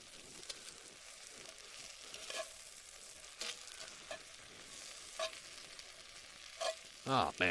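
Onions cook slowly in a pan toward caramelization, giving a faint, steady sizzle broken by several scraping stirs spread through the stretch, the last ones louder and closer, with no talking.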